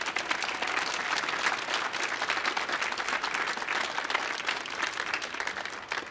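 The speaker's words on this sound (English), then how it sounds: "Give them a big applause." Loud, sustained applause from a concert audience at a folk trio's stage show, a dense, energetic roar of many hands clapping continuously with no break.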